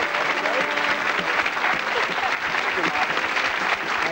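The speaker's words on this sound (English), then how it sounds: "How about a big round of applause?" Studio audience applause fills a 1978 television game show, a steady dense wash of clapping from a large crowd held at full strength throughout, with faint voices mixed underneath.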